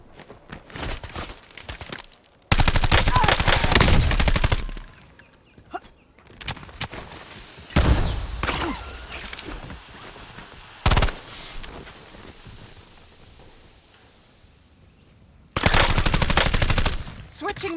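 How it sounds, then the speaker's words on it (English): Bursts of automatic gunfire from a Warzone match, loud and sustained, firing in three separate volleys with quieter footsteps and game ambience between them. "Taking fire!"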